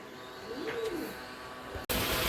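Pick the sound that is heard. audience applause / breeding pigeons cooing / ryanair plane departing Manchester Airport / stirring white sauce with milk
breeding pigeons cooing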